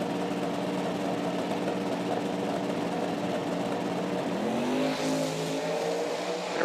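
Matt Jones's drag racing truck launches down the track at Bradenton Motorsports Park during a US Street Nationals night event, a loud, steady engine roar whose pitch climbs near the end.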